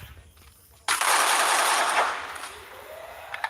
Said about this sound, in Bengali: একে ফোর্টি সেভেন দিয়ে হেডশট মারার চেষ্টা